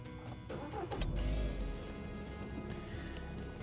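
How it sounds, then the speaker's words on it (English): A car engine cold start: a brief cranking burst that catches and settles into a steady, fairly quiet idle rumble, heard close with no talk. "start the car, wait for about 30 seconds and start to drive"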